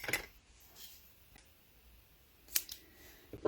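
Scissors snip paper for a handmade card, a few faint, sharp cuts spaced irregularly over near silence.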